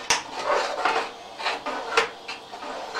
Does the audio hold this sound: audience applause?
no